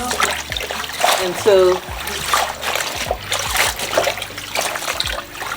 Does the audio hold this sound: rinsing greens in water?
yes